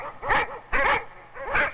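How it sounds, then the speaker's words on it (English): A dog in the film Manos: The Hands of Fate gives three loud, drawn-out barks or yelps at an even pace, each separated by a short pause. "Then they hear barking."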